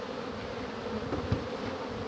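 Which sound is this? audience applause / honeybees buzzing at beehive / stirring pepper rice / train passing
honeybees buzzing at beehive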